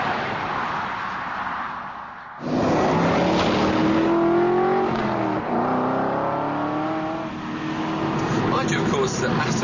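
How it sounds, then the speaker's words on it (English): An Aston Martin V8 Roadster accelerates hard on a racetrack, its torquey V8 rising in pitch through the gears after a brief lull, loud and close, with someone talking over the engine. "And that torquey V8 has that wall of acceleration."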